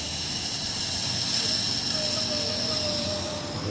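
Compressed air blasting through a lawn sprinkler system zone during a blowout, a loud, steady rushing hiss with a whistling tone that runs unbroken for several seconds.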